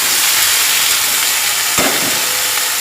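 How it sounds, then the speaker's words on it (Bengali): Spinach with garlic paste frying in a pan, a loud continuous hissing sizzle with one brief stirring clatter midway. "পালং শাকগুলো দিয়ে একটু নাড়াচাড়া করে নেবো।"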